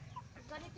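Chickens cluck softly nearby at a rural home, brief and faint, with a voice talking over them.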